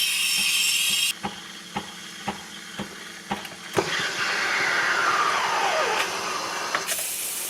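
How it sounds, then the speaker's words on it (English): Breville espresso machine steam wand: a loud, close steam hiss at the start, then a run of clicks and taps, then a long roaring hiss that rises and shifts before a final burst of steam. "That's now it's steaming."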